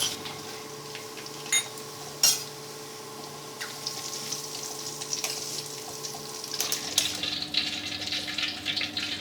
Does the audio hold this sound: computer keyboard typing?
no